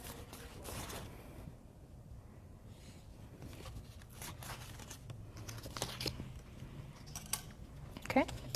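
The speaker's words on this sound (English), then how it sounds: "So I can just take my scissors and poke a hole in mine." Soft crinkling and cutting sounds, with a few sharp snips and a crunchy puncture of paper, close by and quiet.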